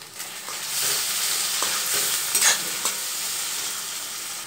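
Chopped tomato going into hot oil with black cumin, onion and green chilli for a pomfret curry, a loud, bright, continuous sizzle with a few stirring knocks, close and without talk.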